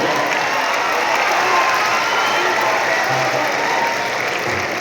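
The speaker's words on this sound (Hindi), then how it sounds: "तालियां कम बजा रहे हैं।" Steady, dense clapping from a large audience at a Hindi poetry gathering in Patna, loud and continuous throughout with no voices rising above it.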